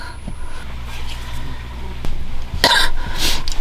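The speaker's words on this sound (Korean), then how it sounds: "장기침이 계속 나거든요." A person in a rooftop tent at an autumn campsite gives a few short, dry coughs and throat clears, close to the mic, with brief speech and low ambient hum around them.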